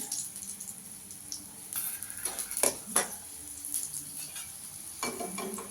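Paratha made with fenugreek greens frying in oil in a pan: a steady close sizzle with a few louder bursts of spatula scraping and shifting partway through, and no voices.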